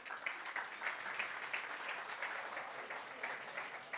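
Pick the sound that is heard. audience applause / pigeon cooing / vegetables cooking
audience applause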